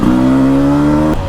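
A Beta RR 300 2024 two-stroke enduro motorcycle holds a loud, close, steady high-pitched rev for about a second, then the engine note drops off abruptly.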